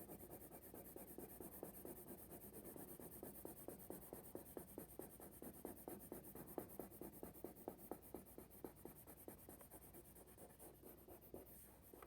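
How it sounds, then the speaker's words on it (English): A black colored pencil is drawn lightly across paper in quick repeated strokes, a soft close scratching with a steady back-and-forth rhythm that continues throughout. "not going to press down super hard on my color pencil. I get like a nice light gray"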